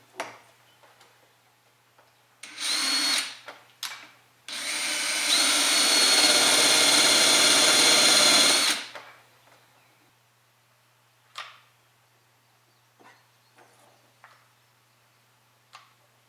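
A power drill bores holes into a wooden bird house roof, with a short burst of whirring, then a longer sustained drilling run of about four seconds, surrounded by quiet handling clicks and taps.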